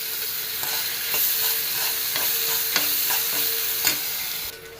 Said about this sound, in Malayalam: പഴം നെയ്യിൽ കിടന്ന് നന്നായിട്ടൊന്ന് വെന്തോട്ടെ.